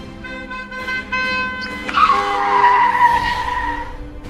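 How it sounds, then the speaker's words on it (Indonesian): A car speeds past at night and its tires skid, the screech swelling loudly partway through and holding to the end, with engine tones steady beneath. "siapa sih bawa mobil ngebut-ngebut dan malam-malam juga?"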